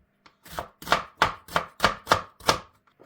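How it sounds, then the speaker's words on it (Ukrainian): A knife chops an onion into cubes on a cutting board for a pickled-onion marinade, seven crisp evenly spaced strokes close to the microphone, no voices. "Спочатку ми беремо цибулину, ріжемо її на кубик та робимо маринад."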